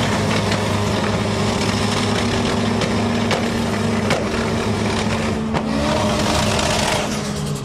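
A Toyota AW11 MR2 with its 1.6 litre engine at HKS street drags, a steady loud engine drone with traffic and crowd noise around it and a few sharp ticks, constant and close throughout.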